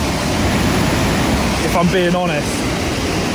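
A storm-swollen river roars steadily and loudly close by, while someone speaks briefly over the rushing water.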